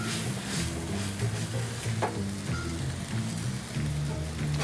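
White wine and dry vermouth sauté over a hot flame in a restaurant kitchen pan, giving a steady, close sizzling hiss with faint stirring scrapes, without talk.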